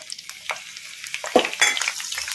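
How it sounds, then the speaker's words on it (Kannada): Cut green chillies fry in hot oil in a kadai, sizzling softly as they are stirred, with a few sharp scrapes and clinks of a spoon against the pan, close by. "ಇವನ್ನ ಒಂದು ಸ್ವಲ್ಪ ಫ್ರೈ ಮಾಡಿಕೊಂಡು ತಕ್ಕೊಂಬಿಡೋಣ ಒಂದು ಪ್ಲೇಟಿಗೆ."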